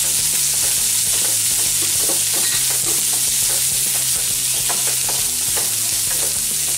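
Onion frying with garlic and green chilli in a pan, a loud, dense sizzle with rapid spatula stirring and scraping throughout, close up and without speech.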